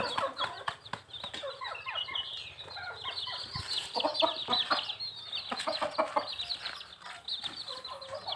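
Chicks and chickens cluck and peep in a dense, overlapping chorus from several birds that runs steadily throughout, close and moderately loud, with no talk.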